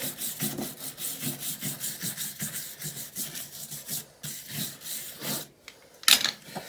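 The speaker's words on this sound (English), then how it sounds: "A little wire brush." A small wire brush scrubs a horse's hoof in preparation for gluing, making rhythmic, close scratchy strokes at a steady pace, ending with a few sharper scrapes and knocks, with no speech.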